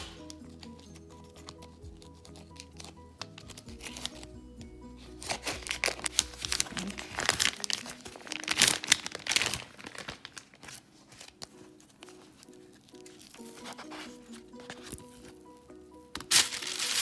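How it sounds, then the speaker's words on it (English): A plastic pack of bacon is cut open and handled on a tray for oven cooking, giving crinkling and snipping sounds in irregular bursts, close and moderately loud, louder through the middle and at the end. "So let me just go ahead and cut it open."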